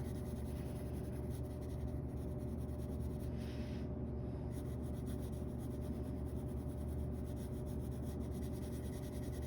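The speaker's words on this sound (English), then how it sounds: "So I'm just really changing the pressure of my pencil." Pencil shading on paper while drawing a bird, a soft continuous scratchy rubbing that stays steady and close, with no other sounds.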